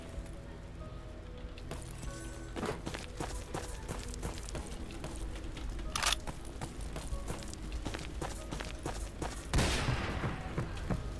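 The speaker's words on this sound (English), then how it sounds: "Why is this man shooting me?" Gunfire in the Roblox game The Decaying Winter: a rapid string of sharp shots crackles over hurried footsteps, with a louder burst near the end, all fairly close and dense.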